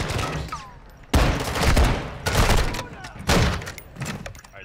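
Video game gunfire from dual magnum pistols: heavy, repeated shots in several bursts, loud and close, mixed with game action sounds.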